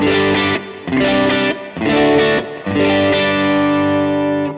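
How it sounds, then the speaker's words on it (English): Electric guitar through the clean boost of an RJM Music Overture overdrive pedal, played in three thick, sustained chord phrases separated by short gaps, the last ringing out longer; full, rich tone, no talking. "Okay, the clean boost."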